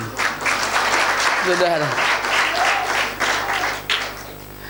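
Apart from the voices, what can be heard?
audience applause in church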